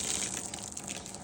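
Rainwater gushing out of an unclipped, overflowing house gutter beside a rotten fascia board, a steady close hissing splash that continues without pause, no talk.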